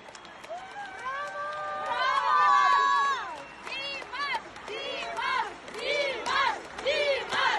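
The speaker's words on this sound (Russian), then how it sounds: "Аплодисменты маэстро!" A concert audience cheering and applauding for the maestro composer, a swelling roar of crowd noise beneath loud, excited sung and shouted voices over a hall.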